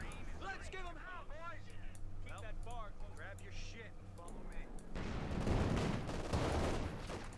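Gunfire and artillery in a Company of Heroes 2 battle, with scattered shots under talk early on, then a dense, loud roll of firing and blasts in the last seconds.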